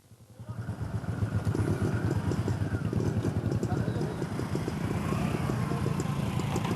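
Motorcycles ridden by farmers through a village, a steady close engine drone with rapid rhythmic pulsing throughout, rising from quiet at the start to a sustained loud level.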